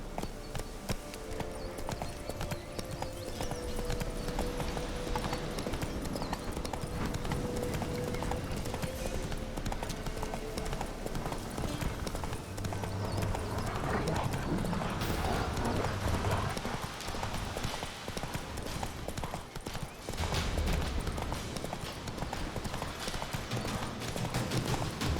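Hoofbeats of Geralt's horse Roach in The Witcher 3: a steady clip-clop runs for the whole stretch over game music and ambience, with the pace picking up midway and an occasional whinny.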